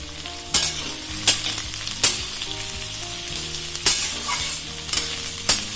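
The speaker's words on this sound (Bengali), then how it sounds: "ভালো করে ভেজে নেব।" Chili chicken ingredients with green chilies fry in a pan, a loud even sizzle punctuated by about seven sharp, regular spatula strokes, with music playing softly underneath.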